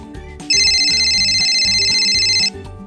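Telephone ringing as a sound effect in a children's read-aloud story, a loud electronic ring lasting about two seconds over light background music.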